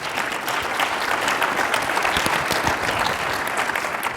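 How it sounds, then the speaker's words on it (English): Audience applause for a panel of four government technology leaders at a California technology leadership event, a steady wash of clapping hands that holds for the whole stretch with no voices over it. "Please give my panelists a round of applause."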